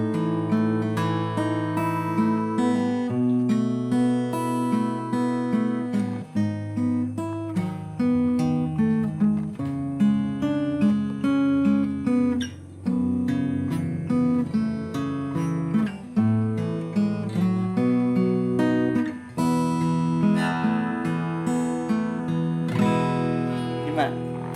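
Ibanez PF15ECE mahogany acoustic guitar played up close and recorded on a Tascam, a mix of strummed chords and picked notes in a steady flowing rhythm, smooth and moderately loud, with no voices.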